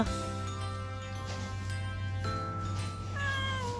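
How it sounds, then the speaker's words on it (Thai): A cat meows close by, a drawn-out plaintive cry followed by a shorter, higher mew near the end, over a low steady hum. "โอ้ใช่แมว"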